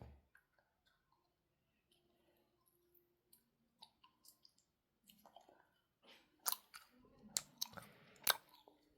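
Someone chews a soda-flavoured Swedish-style jelly candy, hardened by the winter cold, up close. Soft sticky mouth clicks and squishes start faint and grow into louder, wetter chewing near the end.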